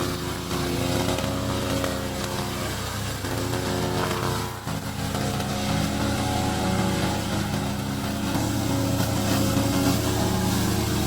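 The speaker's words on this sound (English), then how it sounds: "This is our remote controller mower." A remote-control lawn mower running, a steady close engine drone that holds for about eleven seconds with a brief dip partway through, with no speech.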